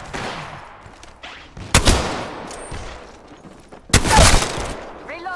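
Gunfire in a battle-royale video game, two loud bursts of shots about two seconds apart amid quieter game sounds, with players talking over it.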